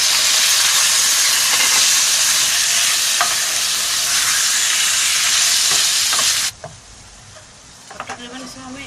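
Chicken pieces sizzle and fry steadily in a hot pan, a loud dense hiss that runs unbroken, then drops away abruptly to quieter cooking sounds with faint stirring near the end.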